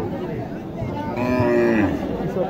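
A Sahiwal cow at a busy village cattle market in Naogaon lets out one loud, drawn-out moo at close range, over a constant murmur of crowd chatter.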